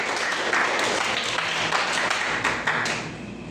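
Church congregation applauding during a sermon on peace: a steady wash of many hands clapping together, fairly close and sustained, with a few sharper individual claps standing out before it begins to fade.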